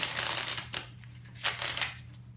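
Soft, papery riffling of cards being shuffled, a few brief bursts close up against a faint low hum.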